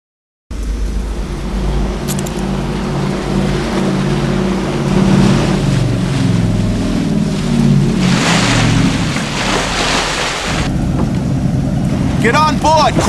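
A motorboat engine drones steadily over water with wind and splashing, a low throbbing hum that shifts pitch midway, with brief speech near the end, in the video game The Suffering.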